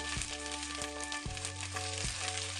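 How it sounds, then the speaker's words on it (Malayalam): Crushed ginger sautéing in a pan for restaurant-style butter chicken, a soft, even sizzle with a few gentle stirring thumps over a low steady kitchen hum. "ഈ ഇഞ്ചിയുടെ പച്ചമണം മാറുന്ന വരെ നമുക്ക് നന്നായി വഴറ്റി കൊടുക്കാം."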